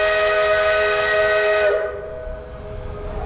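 Steam locomotive number 40 of the Georgetown Loop Railroad in Clear Creek Valley sounds a loud, shrill multi-tone whistle that cuts off partway, leaving a rumbling hiss of steam and track noise.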